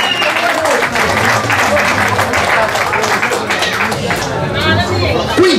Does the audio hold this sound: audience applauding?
yes